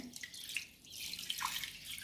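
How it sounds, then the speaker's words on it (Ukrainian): Cold water pours into a pot of salted pork fat pieces, giving a faint, steady trickle with small splashes and drips and no voices. "Заливаю студену воду."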